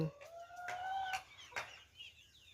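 Backyard laying hens in a breezy rural pen cluck and call while being fed leftover rice, with a few rising, tonal calls at close range and quieter chatter trailing off.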